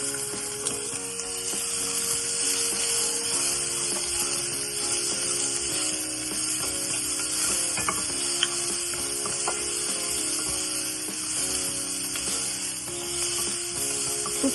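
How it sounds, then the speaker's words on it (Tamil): Onions sizzle and fry in hot tempering oil for a Tamil chow chow kootu, a steady dense crackle that runs unbroken throughout with no talking. "பொரிஞ்சதும் இந்த வெங்காயம் கொஞ்சம் போடும்."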